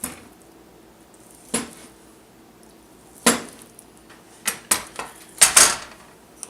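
Knife cutting tender wagyu beef tongue into small quarter-inch pieces on a board, sparse sharp taps and clicks, one or two at first and then a quicker cluster of several chops, close and fairly loud.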